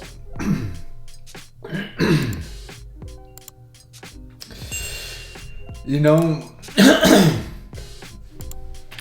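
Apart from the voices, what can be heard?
coughing and throat clearing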